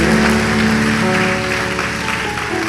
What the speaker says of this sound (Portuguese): Aplaudir o Senhor em nome de Jesus.